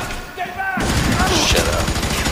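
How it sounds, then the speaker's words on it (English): Bursts of rapid enemy gunfire in the first-person shooter game F.E.A.R. 3 erupt loudly after a brief quieter moment, layered with game effects and a voice talking over the action. "Oh, they're shooting at me."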